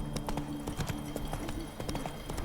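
Horse hooves clip-clop steadily on a hard surface in The Witcher 3: Wild Hunt, a quick rhythmic beat of sharp knocks over a low game ambience, with no voices.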